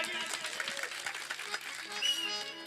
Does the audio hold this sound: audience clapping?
yes